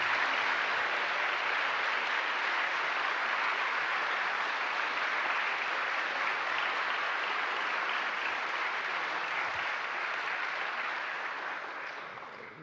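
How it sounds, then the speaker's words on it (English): Sustained, steady applause from a lecture audience in a grand university hall, a dense, even wash of clapping that holds strong for about twelve seconds before tapering slightly at the end, with no voices. "perhaps we might give a thunderous round of applause."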